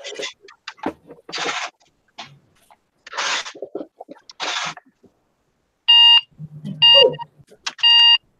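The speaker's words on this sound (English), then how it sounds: "That was my alarm clock." An alarm clock goes off with three loud, evenly spaced electronic beep bursts near the end, after stretches of speech-like sounds earlier.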